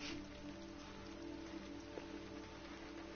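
Steady rain pours through a scene in the video game Detroit: Become Human, a continuous even hiss of drops with a faint low hum underneath and no talking.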